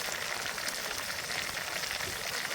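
A soft, even hiss of dry spices and cumin sizzling in hot oil for tempering, steady and fairly quiet throughout with no talking.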